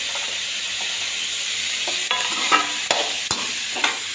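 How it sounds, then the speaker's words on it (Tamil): Chillies and potatoes sauté in a kadai, a soft continuous sizzle with a few sharp stirring scrapes and clinks in the latter half, close and fairly quiet with no voices. "எல்லாம் கடாயில் எல்லாத்தையும் போட்டு வதக்க போகிறோம்மா"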